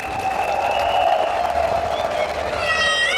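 Audience at a party congress breaking into steady applause with some cheering, loud and sustained throughout, with a voice and tonal sounds rising over it near the end.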